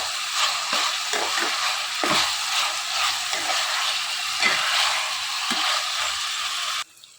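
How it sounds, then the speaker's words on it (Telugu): Chicken pieces frying with ginger-garlic paste in a pan for a chicken curry, stirred steadily; a close, continuous sizzle with recurring scraping stir strokes that stops abruptly just before the end. "ఇలా మొత్తం చికెన్ అంతా కూడా అల్లం వెల్లుల్లి పేస్ట్ పచ్చివాసన పోయేంత వరకు వేయించుకోవాలి."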